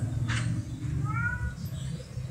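A cat meows once, short and fairly faint, over a low steady background hum with no speech in it.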